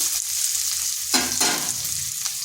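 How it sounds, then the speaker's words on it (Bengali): Garlic lightly frying in a pan over slow-to-medium heat for a spinach dish, with a steady soft sizzle and a louder burst of crackling about halfway through as the pieces are stirred. "আঁচটা স্লো টু মিডিয়াম আছে রেখেছি এগুলোকে হালকা একটু ভেজে নিচ্ছি"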